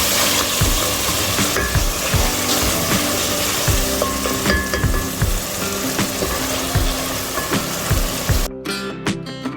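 Masala chicken curry sizzling and frying in a pan as it is stirred, with steady loud crackle and repeated scraping strokes of the spoon throughout, no voices.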